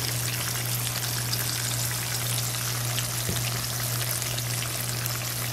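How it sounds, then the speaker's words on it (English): Tilapia seasoned with garlic salt and paprika pan-frying over a medium burner, a steady soft crackling hiss running evenly throughout with a low constant hum underneath and no voices. "We'll let it fry for a little bit because we're only going to flip it once."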